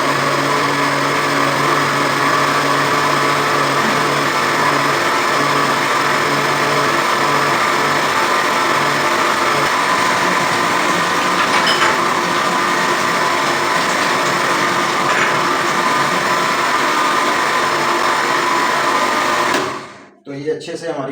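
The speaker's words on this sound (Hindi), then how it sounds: "अब इसको हम अच्छे से जो है जग के अंदर ग्राइंड कर लेंगे।" Blender grinding raw mango chutney in its jug, a loud continuous high-pitched whirr holding steady for about twenty seconds before cutting off abruptly.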